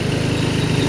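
A riding lawn mower engine runs steadily at night while being driven down a path, a loud, close, continuous rhythmic drone with no talking.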